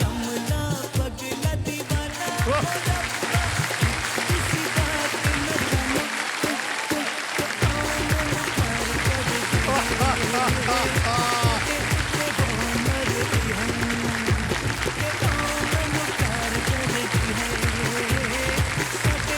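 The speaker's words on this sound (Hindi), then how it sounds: "ताली बज जाए इनके लिए" A studio audience on the quiz show Kaun Banega Crorepati applauds at length, a dense, loud, sustained clapping that carries on without a break.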